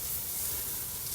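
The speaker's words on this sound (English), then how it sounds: "you can see starting to get a little bit more sizzle on there" Bone-in pork chop searing over a fire, giving a steady, even hiss of sizzling fat that holds constant and fairly close, with no voices.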